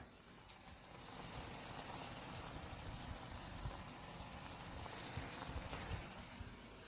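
Ramen simmering in a pot, a steady soft bubbling and sizzling wash with faint pops, quiet and continuous throughout.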